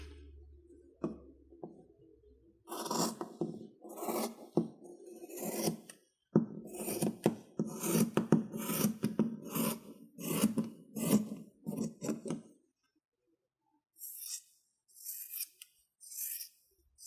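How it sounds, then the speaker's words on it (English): Scissors cut through scarf fabric up close, with repeated crunchy snips in uneven bursts that run for several seconds, then a pause, then a few more cuts, and no talking. "Now it's time to cut the scarf."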